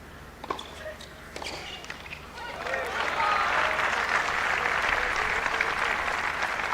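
Crowd applause at the Larsen & Toubro Mumbai Open WTA 125 tennis tournament, starting with scattered claps and a few knocks, then swelling into sustained, fairly loud clapping from a large audience.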